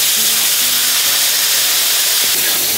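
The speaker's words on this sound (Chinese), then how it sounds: "八爪鱼跟鱿鱼也脱好油" Octopus and squid blanching in hot oil, a loud steady hissing sizzle like steam, close and continuous with a brief clatter near the end, no voices.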